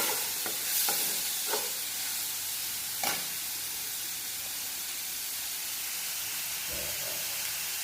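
Green chillies, four or five of them, frying in a pan for a ridge gourd chutney, giving a steady soft sizzle with a few stirring scrapes and clinks; no talking.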